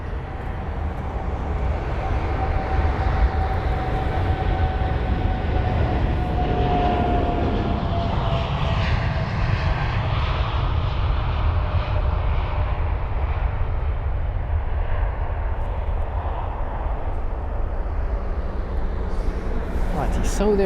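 Airbus A380 taxiing out toward the runway at London Heathrow at sunset, giving a steady jet engine roar and whine that holds loud throughout, with a faint tone rising, while people talk over it.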